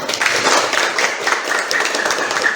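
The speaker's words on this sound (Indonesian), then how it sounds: "Tepuk tangan dong." Classroom of students clapping hands together at a teacher's request, a dense, steady patter of many small claps filling the room at close range for a few seconds.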